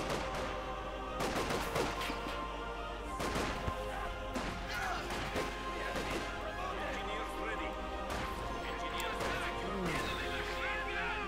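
Rapid MG42 machine gun bursts and scattered gunfire and impacts in the World War II strategy game Company of Heroes 2, dense and continuous, with a commentator talking over the battle.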